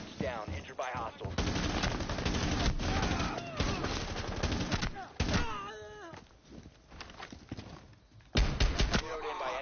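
Rapid bursts of automatic gunfire from a video game rifle crackle in repeated volleys, loud and close, with a voice speaking between and over the shots.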